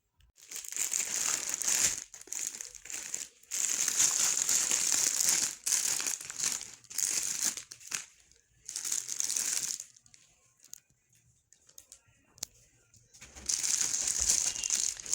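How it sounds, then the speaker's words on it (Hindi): A plastic shopping bag is opened and handled up close, giving loud bursts of crinkling and rustling with short quiet pauses between them. "ये वाला जो बॉक्स है, सॉरी बॉक्स नहीं, शॉपर है, इसको हम खोलते हैं"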